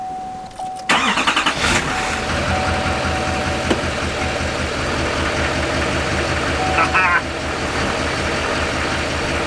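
A 2015–2019 Chevrolet Silverado with an LML Duramax diesel engine cranks and catches about a second in, then settles into a loud, steady diesel idle, with a brief burst of reversing beeps later on.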